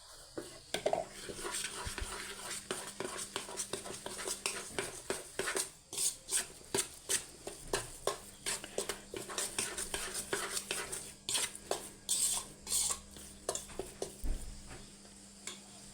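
Flour is stirred into oil in a pot, with repeated scraping and clinking strokes of the utensil at a steady rhythm. The strokes sound close but fairly soft over a low, constant hum.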